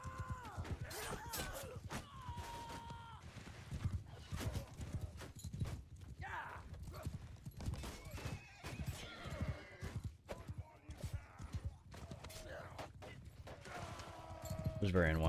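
A video game battle plays out with horses clip-clopping and neighing amid clashing mechanical and shattering effects, while a player talks over the busy, layered action throughout.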